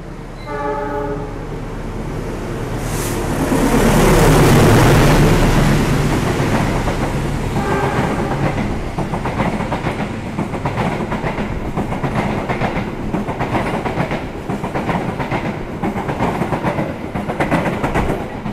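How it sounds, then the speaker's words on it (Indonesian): The Malabar passenger train from Bandung to Malang rushes past close by, heard from aboard the KA Sembrani, its horn sounding before a long, loud rumble of wheels clattering rhythmically on the rails. "Ini kita disusul oleh kereta lain juga nih."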